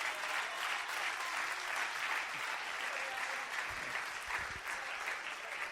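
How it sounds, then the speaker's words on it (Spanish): A church congregation breaks into sustained applause, a dense, steady clapping from the crowd that continues throughout the clip with little pause. "Denle una alabanza y un aplauso bien grande a Cristo y yo sigo."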